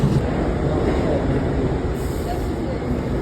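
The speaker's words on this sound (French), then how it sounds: "Là on va prendre le métro direction le ferry." A subway train rumbles steadily with a broad, noisy roar, heard from inside the carriage and fairly loud throughout.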